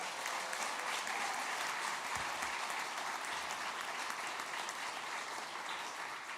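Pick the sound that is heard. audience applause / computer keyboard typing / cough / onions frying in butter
audience applause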